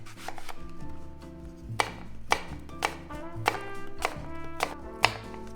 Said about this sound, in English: I'm just gonna slice them up nice and thin